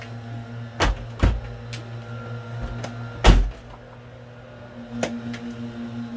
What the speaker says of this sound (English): I'm going to shut the door and make sure that it clears.